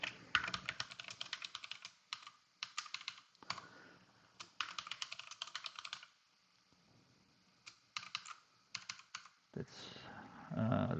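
A password is typed on a computer keyboard in quick bursts of light key clicks separated by pauses, close and fairly quiet, with a brief louder shuffle at the end.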